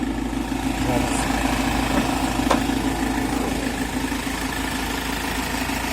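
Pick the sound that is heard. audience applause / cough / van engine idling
van engine idling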